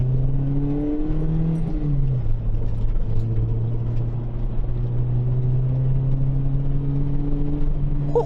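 A Toyota Celica engine drones steadily while driving in second gear at around 25 mph, a smooth low hum with a slight pitch dip as the gear changes, then holding level throughout.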